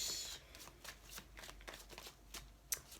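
A deck of playing cards being shuffled during a tarot-style reading, with repeated riffling and soft slapping bursts at close range, quiet and with no talking.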